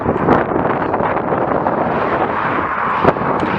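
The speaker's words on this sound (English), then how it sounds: "I've started out with a headwind" Headwind buffeting the microphone while riding an ElliptiGO bike on a long 400 km audax ride, a loud continuous roar and rumble with a couple of stronger gusts, no speech.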